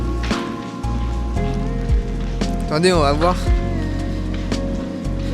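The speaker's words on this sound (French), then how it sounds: "Bon, le temps est vraiment pourrave. Comme vous pouvez voir, il pleut de ouf." Heavy, steady rain pours outdoors, a dense continuous wash over a cold, wet boatyard, with people talking close by throughout.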